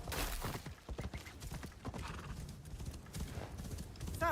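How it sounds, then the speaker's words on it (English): Hooves clop in a quick, steady rhythm throughout, and a horse whinnies briefly near the end, in the video game Assassin's Creed Shadows. "I need my horse."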